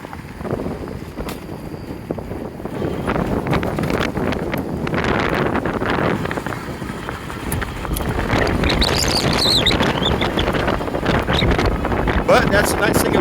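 Strong wind buffets the microphone outdoors on a breezy day beside an electric bike ride, a constant loud rumbling roar that swells and gusts without pause.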